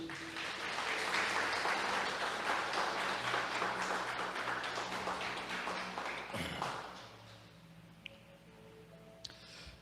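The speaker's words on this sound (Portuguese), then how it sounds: "Você pode aplaudir a Jesus?" Church congregation applauding in response to a pastor's call, a dense, loud wash of clapping that fades after about six seconds into quieter room noise with a few stray taps.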